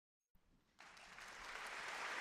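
Audience applause following a live performance of a song, starting faintly after a brief silence, then swelling into broad steady clapping that grows louder and denser toward the end.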